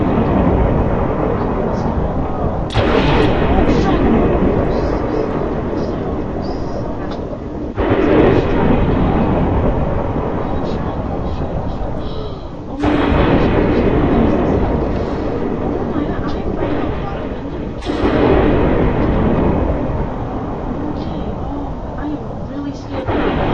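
Heavy thunder from lightning rolls on continuously in loud, dense rumbling waves, with a few sharp cracks that start new surges.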